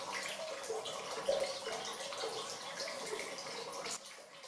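Malvern spring water runs steadily from a source in the English hills, a continuous splashing, gurgling flow heard close and alone.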